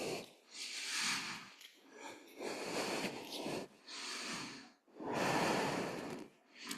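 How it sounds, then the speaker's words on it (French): Slow, steady breaths during a downward dog pose in a Hatha yoga flow class, four long audible inhale-exhale cycles that sound close and fairly loud with short pauses between them. "quelques respirations ici."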